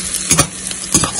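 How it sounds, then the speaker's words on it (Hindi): Fennel seeds, whole coriander and cumin sizzle in hot oil for a tempering, a loud close crackle with quick stirring scrapes, and no talking. "और थोड़ी सी डाल रहे हैं सौंफ बघार में"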